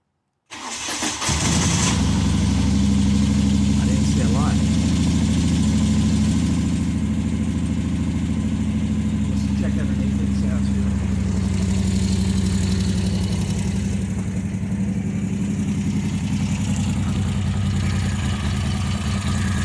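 A 2008 Moto Guzzi Breva Sport 1200 motorcycle engine cranks and fires up, then settles into a steady, loud, close idle with a deep rumbling throb that runs on without any talking.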